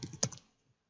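A brief burst of several quick, close keystrokes on a computer keyboard, ending in a final tap and then quiet.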